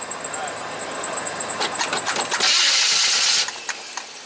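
A 1978 vehicle, not started in two years, cranking as it tries to fire, with rapid starter chugs and a high squeal that swells and then cuts off, while people talk nearby.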